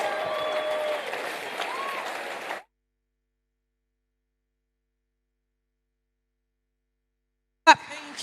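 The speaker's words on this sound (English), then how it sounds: "Keep clapping." A crowd applauding steadily for a couple of seconds, then silence, then a brief loud burst of sound at the end.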